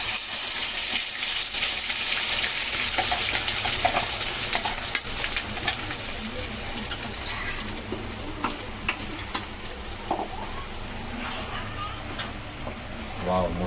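Malvani masala made with garlic, coriander, tomato, coconut, chilli, onion and ginger sizzles and crackles steadily in a pan for surmai fish fry, with stirring scrapes throughout and a person talking over the cooking.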